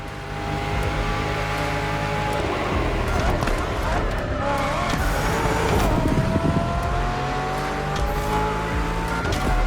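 Racing car engine revving in The Crew Motorfest on Xbox Series S, a loud continuous roar with rising and falling pitch, tire squeal and game music under it, and a voice talking over it throughout.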